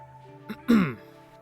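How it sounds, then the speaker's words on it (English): A person clears their throat once: a short soft sound, then a louder raspy burst, heard close up with no talk. "I needed to clear my throat there"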